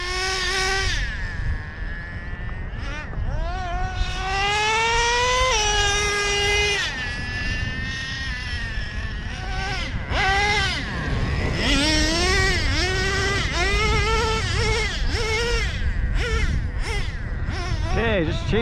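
Traxxas Revo 3.3 nitro RC truck running continuously, its small engine whining and rising and falling in pitch as it accelerates and slows, loud and close throughout.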